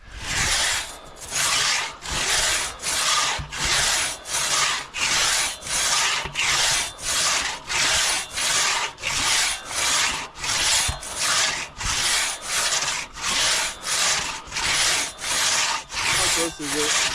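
A two-person crosscut saw is pulled back and forth through a wooden log, each steady rasping stroke clearly audible in a regular rhythm of about one and a half strokes per second, loud and close with no talking.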